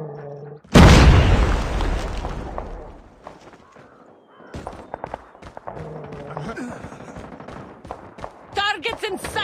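A grenade goes off in a first-person shooter game mode with a loud, deep boom that slowly fades, followed by scattered bursts of gunfire, clicks and game sounds.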